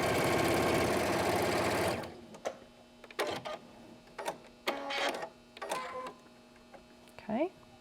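A sewing machine runs steadily for about two seconds, stitching quilt pieces for a double wedding ring quilt with a quarter-inch seam, then stops; scattered handling clicks and brief noises follow.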